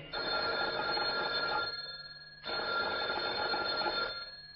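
A telephone rings twice in a Hungarian musical children's audio play, loud electronic bell bursts with a short pause between them, set at night, with no talk over it.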